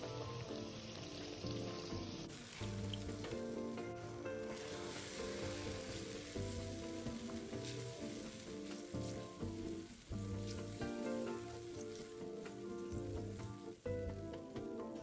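Chili paste sizzles and bubbles steadily in a pan as water is added for a Malaysian sweet-spicy chicken sambal, a dense continuous frying crackle held close throughout with no voices.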